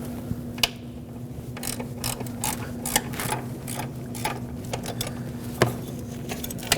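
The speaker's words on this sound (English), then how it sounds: "I'm going to put a ratchet on it and remove that with the ground wire altogether" Ratchet wrench clicking as it backs out a 10mm bolt on the starter bracket of a 2006-2015 Lexus IS250 AWD, a steady run of close, sharp pawl ticks with a few louder clacks over a low hum.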